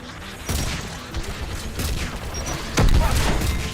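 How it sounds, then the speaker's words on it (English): Mounted turret firing in the Mass Effect Legendary Edition video game, a loud sustained burst of rapid booming shots with heavier blasts, close and continuous. "Mounted turret."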